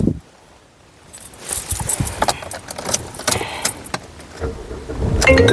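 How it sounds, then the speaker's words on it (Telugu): Keys jingle, then the engine of a 2011 Toyota Corolla Altis cranks and catches on the first try, settling into a running rumble with some rattling up close. "సింగిల్ సెల్ఫ్లో కార్ స్టార్ట్ అవుతుంది"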